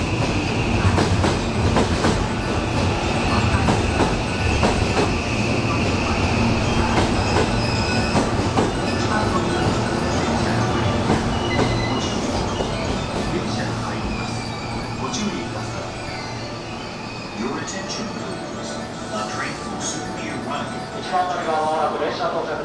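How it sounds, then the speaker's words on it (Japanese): A JR West Osaka Loop Line train pulls into a station in Osaka with a loud, continuous rumble, rhythmic wheel clatter and high squeals, while platform announcements play over the noise. "1番乗り場到着の列車は阪東線外回り大阪京都の1番乗り場です。"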